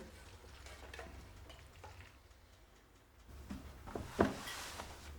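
A potato, onion and egg tortilla mixture for a Spanish tortilla drops into a pan and fries gently, with a soft low sizzle, faint scrapes, then a louder clatter and hiss near the end.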